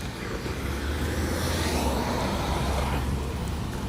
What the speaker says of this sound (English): that person's car sounds like it's about to fall apart